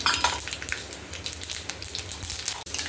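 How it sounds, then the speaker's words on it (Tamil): Mustard seeds and urad dal frying in hot oil for an avaram flower kootu, a soft crackling sizzle with small pops and light utensil clinks, close and fairly quiet, no voices. "எண்ணெய் காய்ஞ்சதுக்கப்புறம் கடுகு உளுத்தம் பருப்பு போட்டுக்கலாம். கடுகு உளுத்தம் பருப்பு 2 சேர்ந்துருக்கு."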